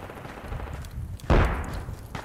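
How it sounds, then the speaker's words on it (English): A single sniper or marksman shot sounds somewhere to the south in Project Reality: one sharp report with a low boom, moderately loud against steady battlefield ambience. "Hear a sniper or a marksman to the south somewhere."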